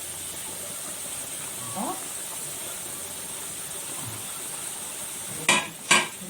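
Chicken pieces for crispy fried chicken sizzling in hot oil, a steady hiss under a woman's brief speech, then two sharp crackling bursts near the end as more pieces go into the pan.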